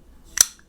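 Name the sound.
pocketknife blade closing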